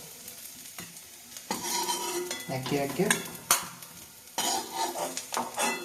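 Raisins frying in ghee crackle softly while a spoon scrapes and knocks against the pan in several stirring passes, the sizzle rising and falling close by; a voice briefly speaks.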